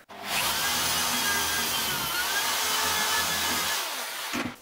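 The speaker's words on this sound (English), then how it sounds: "So I just hit the screw through." A power drill drives a long screw through a homemade overhead camera mount arm, a loud steady whirring run lasting about four seconds before cutting off with a brief clunk, heard close and alone.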